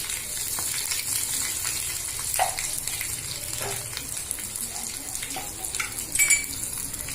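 Steady sizzle of chillies hitting hot oil in a tempering for khaman dhokla, a continuous frying crackle with a few brief spoon or pan clinks, close and fairly loud with no talk.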